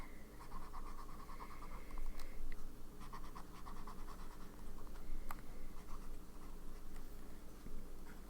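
A TWSBI Mini fountain pen with a medium nib scratching across paper in soft, irregular strokes, faint and close, with no talking.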